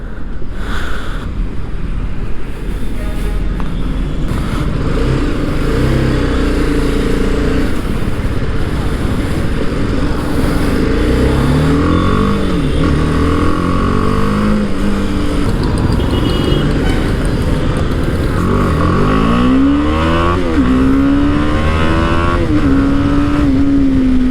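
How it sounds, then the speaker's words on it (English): A 2020 BMW G 310 GS with its 313cc single-cylinder engine runs steadily on a ride, its rising and falling revs carried under constant loud wind rush throughout. "It is powered by an 313cc single cylinder engine which kicks out on power of 34 PS"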